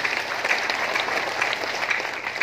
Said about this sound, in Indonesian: Tepuk tangan meriah untuk KOR yang luar biasa.